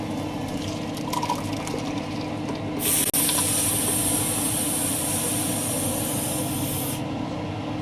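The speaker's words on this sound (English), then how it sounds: "So now we're going to add our sauce." Meatball soup sauce hits a hot pan with a sudden loud hiss that sizzles steadily for several seconds before dropping off, over a low kitchen hum.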